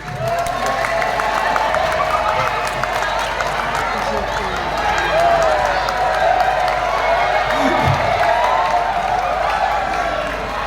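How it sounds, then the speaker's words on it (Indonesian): Large audience at a stand-up comedy show during a company anniversary celebration at Jungle Land breaks into loud, sustained applause and cheering, a continuous roar of clapping and voices for about ten seconds. "Yang suami tidak takut istri boleh tepuk tangan?"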